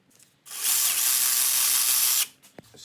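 A cordless power tool whirs loudly for about two seconds, undoing a brake caliper bolt on a car, and stops abruptly. A short metallic clink follows in the quiet.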